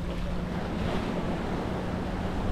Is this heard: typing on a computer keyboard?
no